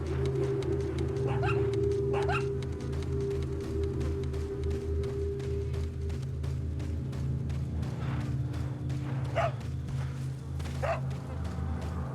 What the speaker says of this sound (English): Telling me something, doggy?